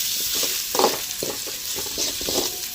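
Tomatoes stirred into a frying Chennai-style mutton head curry, giving a bright steady sizzle with soft scraping stirs and small clatters, close and continuous without speech.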